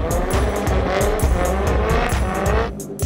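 Drift cars at a night event scream past with loud engine revs and sustained tire squeal, the sound steady and close with rapid pulsing throughout.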